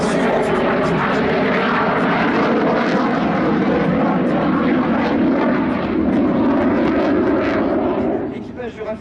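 Dassault Rafale fighter jet in flight at an air show, a loud, steady engine roar sustained throughout before dropping away at the end, with a commentator's voice running underneath.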